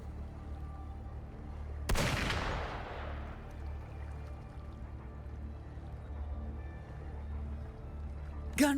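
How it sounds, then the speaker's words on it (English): A single loud burst of gunfire in the video game Wuthering Waves cracks out early and decays into a rumbling tail over a low ambient game drone, with a faint later hit at the end. "Gunfire! We've got intruders."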